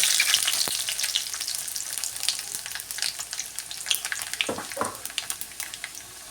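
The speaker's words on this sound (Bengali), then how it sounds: "রসুনটা একটু লাল লাল ভাজা ভাজা যেই হয়ে গেছে দিয়ে দেবো একটু কালো জিরে আর ছোট্ট একটা শুকনো লঙ্কা" Garlic, black cumin and a dried chili fry in hot oil with a loud, dense crackling sizzle that runs throughout, with a couple of brief clattery clicks near the end.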